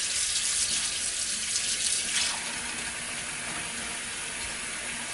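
A cold tap runs steadily into a sink while shrimp are rinsed, loud at first, then the splashing softens and continues as a gentler stream.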